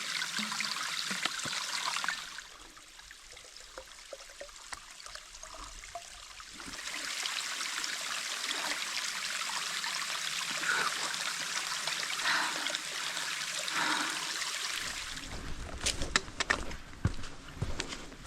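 A mountain stream in the White Mountains of New Hampshire trickles and gurgles faintly while a backpacker collects water. The flow shifts and quiets in the middle, then splashes louder near the end, with no voices.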